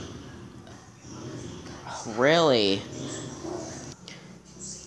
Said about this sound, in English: It was my dog.